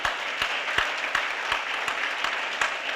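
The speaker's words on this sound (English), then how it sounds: "Let's give her a round of applause." Audience applause at an NAACP jobs campaign event, a moderate, even patter of clapping with a few sharp, near claps punctuating it at regular beats, no talking over it.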